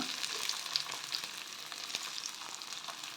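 Poppy seeds dropped into a hot frying pan for a mixed sprouted-gram curry set off a steady, close, crackling sizzle with small pops scattered through the whole stretch, and no talk.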